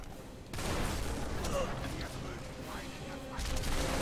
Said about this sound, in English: Because Stein is shooting at us.